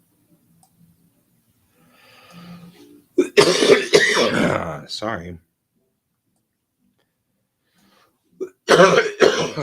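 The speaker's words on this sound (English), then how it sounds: "Suddenly a coughing fit." A burst of harsh, repeated coughing, close and loud, breaks out after a faint throat noise, then resumes briefly after a pause; a brief word is spoken.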